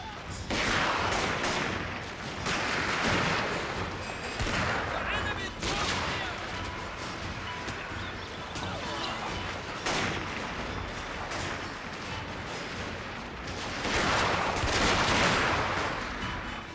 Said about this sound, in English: They're still shooting at my guys without any resistance.